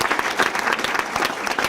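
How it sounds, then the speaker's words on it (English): Applause at a summer youth employment press conference, a short burst of close, dense clapping from a crowd. "I think that's worth a round of applause"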